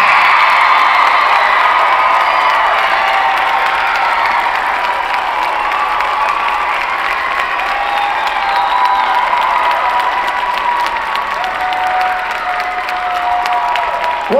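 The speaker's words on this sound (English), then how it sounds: "Once again, a big round of applause for all of our middle school competitors." A packed middle school show choir awards audience claps and cheers loudly and nonstop for about fourteen seconds. Scattered whoops and high shouts rise above the dense wall of applause.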